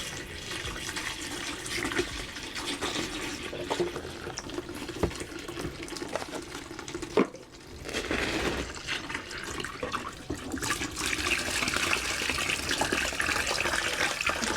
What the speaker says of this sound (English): I've got nearly 4 liters of water in this watering can.